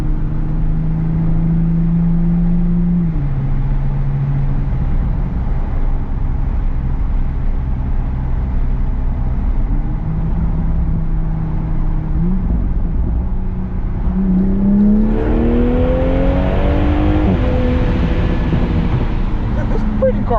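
A 2021 Toyota Supra with a new aftermarket exhaust drones with a smooth, deep tone from inside the cabin, holding steady and then climbing in a strong rev near the end, loud and continuous.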